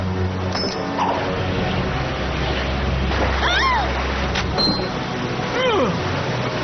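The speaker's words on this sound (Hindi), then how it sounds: "ये पानी की धारा इतनी तेज क्यों है? हम भंवर में फंस गए हैं।" Rushing water churns in a whirlpool in an animated fairy cartoon, a loud, steady roaring wash under voices calling out.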